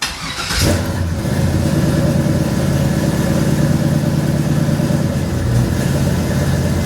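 A tuned car engine cranks for a moment and catches almost instantly, then settles into a loud, steady, even idle that runs for several seconds with no talking.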